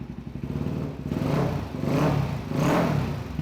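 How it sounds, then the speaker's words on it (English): A motorcycle engine idling after a carburetor rebuild with generic kit parts, a close, even putter that swells in three gentle throttle blips, with no speech. "The bike is running strong."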